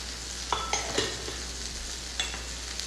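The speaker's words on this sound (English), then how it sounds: "So you just have to mash it in so it will be blended with the soy sauce." Ingredients for bulgogi are mashed into soy sauce with a utensil, giving a few soft, wet taps and scrapes against the bowl over a quiet background, close by and without talk.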